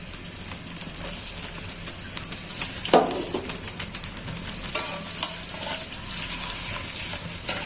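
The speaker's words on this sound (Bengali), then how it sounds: "পেঁয়াজ কুচুগুলো দিয়ে দিচ্ছি।" Chopped onions dropped into hot oil in a wok sizzle steadily with stirring scrapes, a sharper burst around the third second, no voices.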